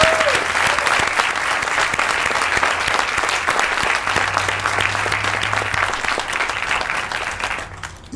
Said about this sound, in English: If we could have one more round of applause for the Collegiate Choir, Tom Clark, conductor.